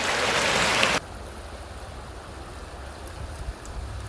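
Outdoor waterfall in spring, a loud broadband rush for the first second before dropping to a quieter, steady distant wash.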